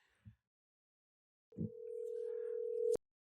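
A telephone call placed on speakerphone gives a couple of soft clicks, then a steady electronic dial tone that holds for about a second and a half before cutting off abruptly, with no talk.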